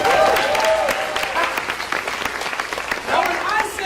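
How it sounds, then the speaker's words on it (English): Audience applause at a church-style gathering during a music showcase, a steady wash of clapping that swells at the start and again near the end, with some voices mixed in. "Give him a big round of applause."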